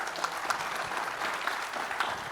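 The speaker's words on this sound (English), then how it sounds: "Warm round of applause, please." Audience applause at a healthcare innovation event, a dense, steady patter of many hands clapping at moderate distance, continuous throughout the short stretch without talk.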